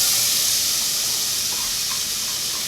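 Onions sweat in butter in a pot for corn chowder, giving a steady, close, bright sizzle and hiss that holds even throughout with no talking.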